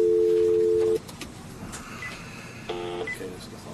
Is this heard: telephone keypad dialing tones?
yes